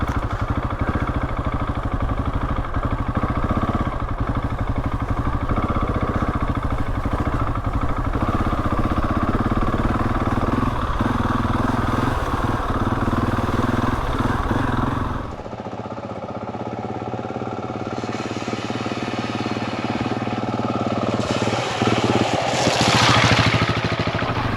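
A Husqvarna 701 motorcycle climbs a muddy winter green lane uphill, its engine droning steadily and loudly close by, then the tone shifts and drops slightly partway through as the rider picks a line.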